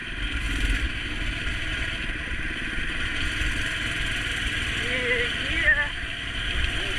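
Massimo MB200S Mudstar and Mini Baja mini bikes ride a snowy track, their small engines giving a steady, loud drone throughout, with voices talking over the noise.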